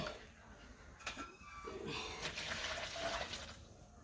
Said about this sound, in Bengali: জল ফালে দিলাম আমি জল ফালিয়ে দিয়ে